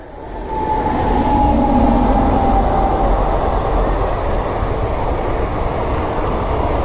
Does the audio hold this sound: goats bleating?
no